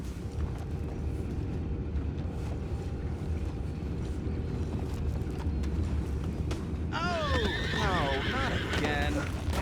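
Horses from the video game Red Dead Redemption 2 whinny loudly near the end over a dense bed of clip-clopping hooves and rumbling ambience, with voices talking underneath.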